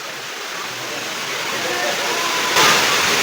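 Water at Palaruvi waterfall pours down in a constant broadband roar that swells slightly louder toward the end, with no break or rhythm.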